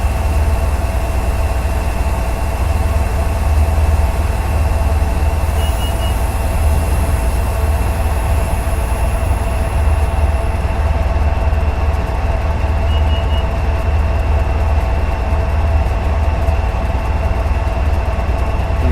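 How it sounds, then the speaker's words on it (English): In Train Simulator 2018, a GP40-2 diesel locomotive engine rumbles steadily at idle-like level while the train brakes to a stop, with a constant low drone and a faint high whine throughout. "Train is slowing to a nice realistic stop."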